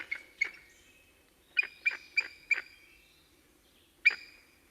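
A bald eagle gives gull-like calls from a tree, a series of sharp, clear squeals in a quick run of four followed by a single later one, heard alone against a quiet background.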